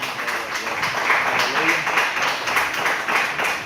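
A church congregation gives sustained applause in praise of God, steady clapping filling the room throughout.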